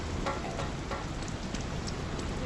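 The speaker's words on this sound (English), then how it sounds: "It's a rainy day in Newport." Steady rain falls in Newport in the video game Dreamfall, a continuous hiss of drops pattering on surfaces, even and moderately loud with no voices.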